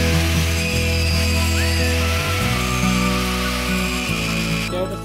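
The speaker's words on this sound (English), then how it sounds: "Grinding all done, and you can see they cleaned up fairly nicely." Volvo 240 suspension parts are ground, giving a loud steady whining drone with shifting pitch as the tool bears on metal, continuous and close with no talking.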